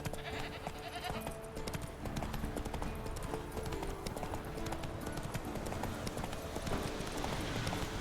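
Warhorse hooves clip-clopping in The Witcher 3 game, a steady walking rhythm of close, crisp hoof strikes over ambient game sound, with bleating farm animals mixed in.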